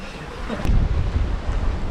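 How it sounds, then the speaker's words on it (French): Wind gusts up while sailing aboard a boat, a low rumbling buffet against the microphone that swells suddenly and keeps roaring, with faint water noise beneath. "Ah, accélération du vent"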